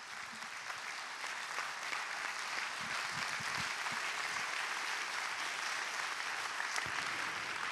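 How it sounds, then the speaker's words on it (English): Steady applause from an audience at a book launch for an early Indian history title, sustained and dense across the whole stretch with no voices breaking through. "Ladies and gentlemen, a big round of applause,"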